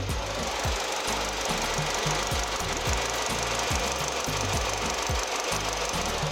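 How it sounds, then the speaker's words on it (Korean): A used LPG-fuelled car engine idles steadily up close with an even, rhythmic low chugging pulse and a constant mechanical hum throughout. "자 엔진 소리 들어보고 마무리할게요"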